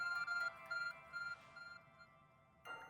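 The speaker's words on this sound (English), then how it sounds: "Your ARC phone is beeping." In Pokémon Legends Arceus, the ARC phone gives a short series of soft electronic beeps in quick clusters, fairly faint, followed by a brighter chime at the end.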